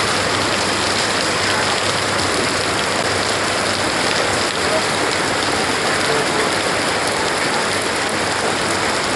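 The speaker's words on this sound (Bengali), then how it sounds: "বৃষ্টি মোটামুটি নিয়ন্ত্রণে চলে আসছে" Heavy morning rain pours steadily and loudly on surfaces nearby, a dense unbroken hiss with no letup across the whole stretch.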